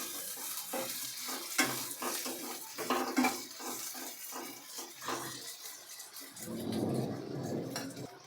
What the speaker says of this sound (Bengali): পেঁয়াজটাকে একটু লালচে করে ভেজে নেব।